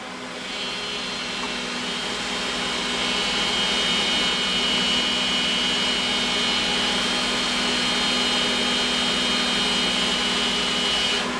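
Cooling fan forcing air through a replacement heatsink in an MR Lee 2x12 XForce amplifier, a steady loud whooshing whir with a faint tonal hum, continuous and alone with no voices.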